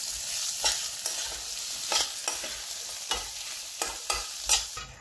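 Chickpea usal being mixed in a pan after sugar and salt go in, a soft background sizzle under repeated rhythmic scraping stir strokes about once a second, close, with no talk.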